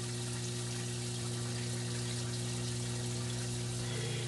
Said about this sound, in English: If you're going to be running a pump like I do in a bedroom, one of your main concerns is going to be noise.